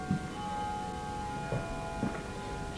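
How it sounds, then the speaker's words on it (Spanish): Bells ring in the video game Amnesia: A Machine for Pigs, sustained metallic tones hanging steadily under a faint ambient hum, with a few soft low knocks scattered across the short stretch. "Las campanas."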